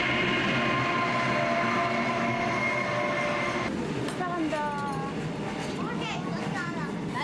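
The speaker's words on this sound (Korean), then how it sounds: "기차는 배꼽시계보다 더 정확하게 오두막집 앞을 통과한다" A train from Pyongyang rolls past in front of a countryside cabin at dinnertime, a loud continuous rumble and rail drone that ends abruptly midway, followed by children's voices and household chatter.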